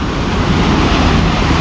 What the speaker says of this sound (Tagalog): Ang lakas ng agos ng tubig.